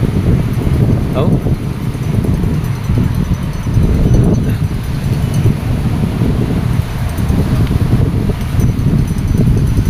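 Strong wind gusting over open sea around a small outrigger boat, a loud steady roar with buffeting against the microphone and occasional creaks, under a voice.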